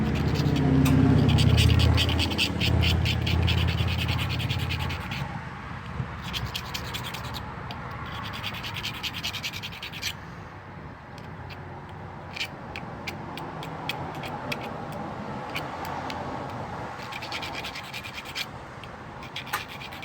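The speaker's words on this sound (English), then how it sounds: "I'm just going to take it and I'm going to file it down." A metal file rasps a burr off the end of a battery cable, heard as rapid, close scratching strokes in bursts with short pauses, over a low background rumble in the opening seconds.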